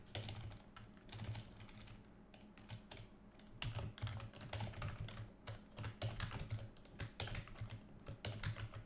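Steady typing on a computer keyboard, close and clear, with bursts of quick keystrokes and short pauses, faint in level with a low hum underneath.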